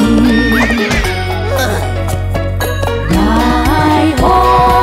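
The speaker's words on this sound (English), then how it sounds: "that horse neighs for me" A horse neighs loudly in a long whinny, then gives a second shorter whinny, with no other sounds around it.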